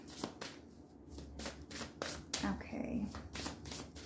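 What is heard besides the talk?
oracle cards being shuffled and pulled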